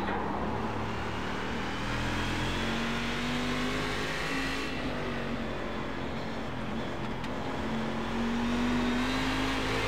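A Cadillac race car in a racing video game laps the Okayama circuit, its engine droning steadily and rising in pitch as it accelerates, with a brief dip mid-way, continuous and fairly loud with no talking.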